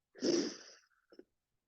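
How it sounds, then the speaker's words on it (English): A single close, forceful sneeze from a chair yoga instructor bursts out for about half a second, then a brief faint breath or sniff follows in an otherwise quiet room. "I'm about to sneeze."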